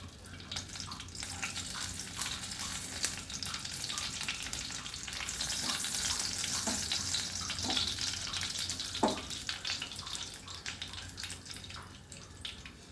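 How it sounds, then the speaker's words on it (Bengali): Dried red chillies sizzle in hot white oil in a home kitchen, tempering the pan for a prawn dish. A steady, fairly soft crackling hiss runs throughout, with a few faint clinks from a utensil. "শুকনো লঙ্কা ফোড়ন করছি।"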